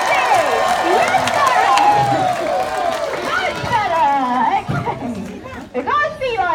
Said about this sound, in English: This time I want you to start clapping and cheering. And I want you to be twice as noisy.